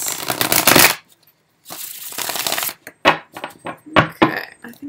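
Tarot cards being shuffled by hand in bursts, a riffling, papery flutter followed by a pause, then a longer shuffle and several quick taps and slaps of the deck, close and fairly loud.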